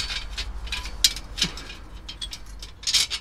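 Close ratchet clicking while a bolt is tightened on a catalytic converter theft protector, heard as irregular short bursts of sharp clicks and metallic ticks.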